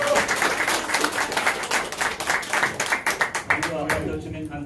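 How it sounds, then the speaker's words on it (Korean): An audience applauds members of the National Assembly at an apartment residents' meeting in Gwanggyo, Suwon, with steady clapping that gradually thins out near the end, mixed with voices. "우리 국회의원님들한테 우리 뜨거운 박수 한번 보내주세요."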